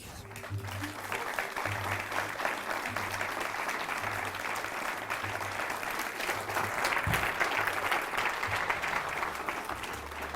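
Audience applause at a stage show fills the stretch as a steady, dense roar of clapping hands, moderately loud and unbroken, with a faint low hum running beneath.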